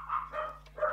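Dog barking at the door indoors, a few short yapping barks in quick succession, fairly faint and close, with a low steady hum underneath.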